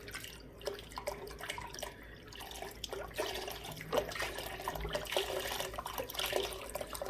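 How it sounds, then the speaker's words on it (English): Vegetable broth pours into a pot, a close, steady splashing and gurgling of liquid that grows slightly louder as it goes. "now we're going to add 4 cups of this vegetable broth. You want to stir that in."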